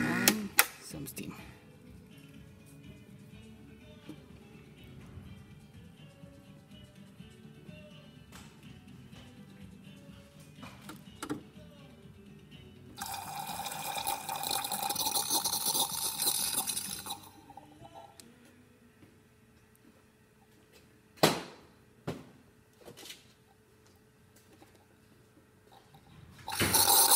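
A Gaggia espresso machine's steam wand, on a unit checked for a slow pump and weak pressure, lets out a hissing burst of steam for about four seconds amid quieter clicks, drips and handling noises.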